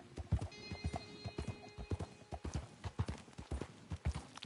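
A horse trots at a slow pace in an online western video game, with regular clip-clop hoofbeats close by and a faint whinny, with no talk over them.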